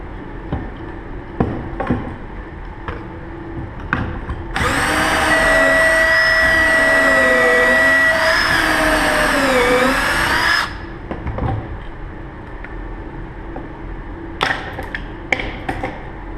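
A drill boring a Kreg pocket screw hole into wood for a step stool runs steadily for about six seconds, loud and whining. Lighter bumps and handling knocks come before and after it.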